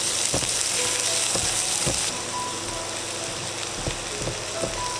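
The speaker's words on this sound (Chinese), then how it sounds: "现在开始炒一下猪肉末，开中火把锅烧热，放入1勺油，放入蒜蓉，翻炒出蒜香味。" Minced pork and chopped garlic sizzling in hot oil in a wok over medium heat, a bright continuous fry hiss with a few sharp clanks of the spatula against the pan.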